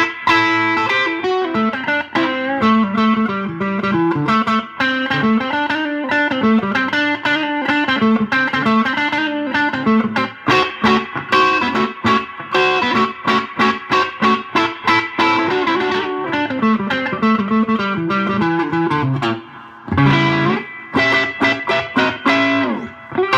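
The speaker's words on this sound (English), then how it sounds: "Distortion on here. That's a blues driver pedal." A six-string cigar box guitar through a blues driver overdrive pedal plays a bluesy riff and chords with gritty overdrive for over twenty seconds, loud and continuous, with a brief pause near the end.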